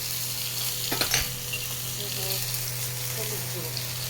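Whole garam masala spices crackle and sizzle steadily in hot oil while banana flower is being cooked, with a brief burst of stirring or clinks near the one-second mark and a low steady hum underneath.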